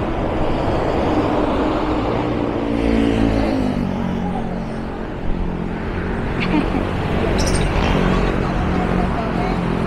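Highway traffic in Silang, Cavite, on the road toward Tagaytay: a steady, loud broadband rumble of passing vehicles that continues without a break.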